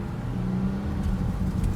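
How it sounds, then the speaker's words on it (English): A Jeep Grand Cherokee fitted with a K&N 77 intake idling, a low steady engine rumble heard close and even with no revving. "here I'm gonna do a normal idle."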